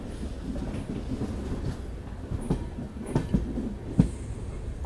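The Murdeshwar–Hyderabad Express runs steadily, heard from aboard near Surathkal, with a low rumbling roll, scattered rail clacks and a few sharp metallic squeals and knocks toward the end.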